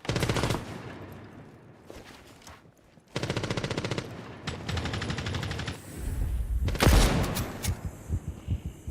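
Suppressed MP5 submachine gun fire in Rainbow Six Siege, sounding as several rapid bursts of gunfire with brief pauses and thumping impacts, loud and close, with no talking.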